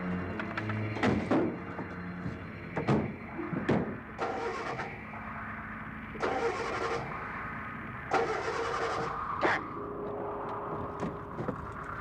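A car engine being started in a 1966 horror film scene, with repeated cranking bursts and thunks under tense, faint talk. It is followed by a low running engine.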